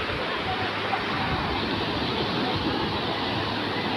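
Loud, steady roar of high sea waves breaking at the Marsa Matrouh shore, a continuous wash of surf filling the whole stretch with no pauses.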